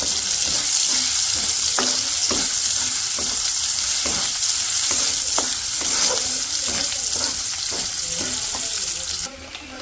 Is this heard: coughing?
no